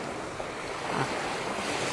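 Sea waves washing onto Phala beach in Ban Chang, Thailand, on an evening, with a continuous close surf wash and light wind noise, no voices.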